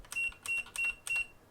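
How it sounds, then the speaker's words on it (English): A repaired electronic device button beeps four times in quick, even succession, each short, bright tone sounding close and clear over light clicking. "And that beeps now, it never beeped before."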